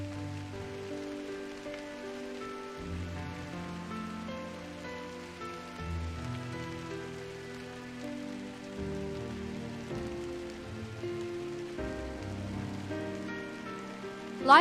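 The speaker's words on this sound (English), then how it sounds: "I woke to a morning of light drizzle" Light drizzle patters softly and continuously beneath slow, sustained melodic background music in the video game Drizzlepath, an even ambient wash with a brief louder swell at the very end.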